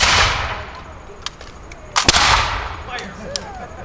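Militia musket volley at an outdoor demonstration: a loud ragged burst of gunshots at the start, then another cluster of sharp reports with rolling echoes and scattered cracks, a voice briefly heard.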